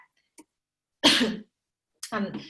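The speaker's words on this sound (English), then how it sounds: "I keep coughing" Two short, harsh coughing bursts, each a broadband rasp, sound close to the microphone in an otherwise quiet room, with a faint click just before them.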